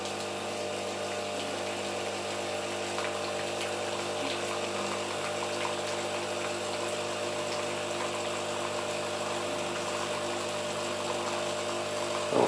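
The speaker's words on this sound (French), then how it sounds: "Ce qui va déclencher un cycle de lavage de la machine." A Senseo coffee machine runs its rinse cycle, its pump droning steadily with a constant mechanical hum and hiss of water for the whole stretch, fairly close and unbroken, with no talking.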